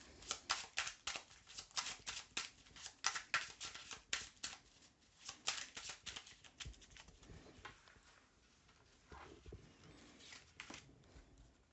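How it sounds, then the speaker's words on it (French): Tarot cards being shuffled and drawn, a quick run of soft, papery flicks and taps that slows and thins out toward the end, quiet and close. "ça prend un peu de temps de tirer les cartes"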